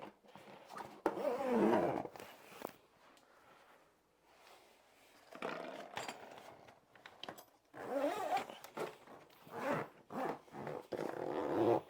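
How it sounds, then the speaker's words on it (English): A zipper runs along the fabric cover of an Ivation EZ-Bed folding bed in a series of quick, close rasping pulls, moderately loud, with short pauses between strokes and no talking. "And then it zips back up."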